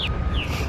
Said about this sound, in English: There's some very loud birds.